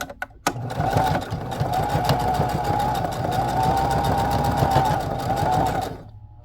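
A sewing machine stitches lace into the printed pages of a vintage-style needlebook, running at a steady hum for about five seconds after a sharp click, then stopping.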